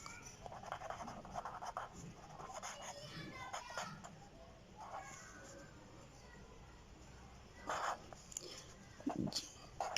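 Faint pen-on-paper scratching of a chemistry calculation, with soft strokes and taps under a quiet room hiss and a couple of louder brushing sounds near the end.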